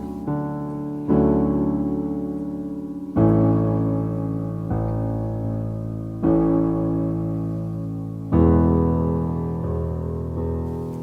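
A piano plays a melody in slow, sustained chords, four or five struck groups each ringing out and decaying before the next, close and clear with no voice.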